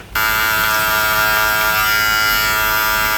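Electric hair clippers fitted with a one guard run steadily while cutting a taper, a loud, close, continuous buzz that starts abruptly and holds without a break.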